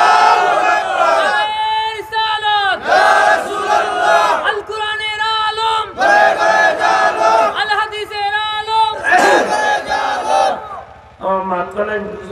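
A large crowd roars a response to a takbir call at a religious gathering, loud repeated shouts in several bursts, with a voice leading between them.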